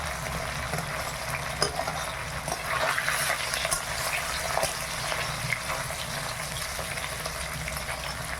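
Catla fish pieces frying in hot oil in a village kitchen, a steady broadband sizzle with occasional pops and spatters running throughout at close range.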